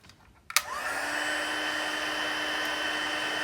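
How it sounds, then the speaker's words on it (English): A heat tool for embossing powder on a card switches on with a click and then blows a steady, loud stream of hot air that holds a constant whirring tone, alone and uninterrupted. "I'm going to take our heat tool"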